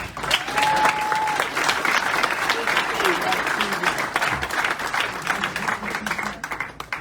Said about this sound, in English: I would like everybody to give him one round of applause